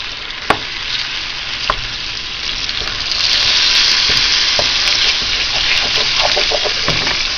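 A wooden spoon stirs a sugary mixture melting in a hot pan, with a steady loud sizzle and scraping, plus occasional sharp knocks of spoon against pan.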